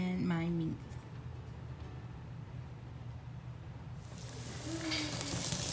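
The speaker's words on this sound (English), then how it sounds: "We're gonna saute this for a little bit." Onions and peppers sauteing in a pan for jambalaya pasta give off a soft, steady sizzle that runs throughout, with a voice briefly heard at the start and again near the end.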